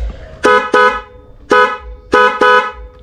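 Five loud car horn blasts from a two-tone horn, close by, in an uneven rhythm: two quick pairs around a single honk.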